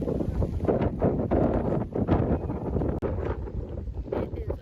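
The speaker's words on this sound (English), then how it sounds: "very windy today" Strong wind buffets the microphone throughout. The roar is steady, with gusty rumbling and no clear voices.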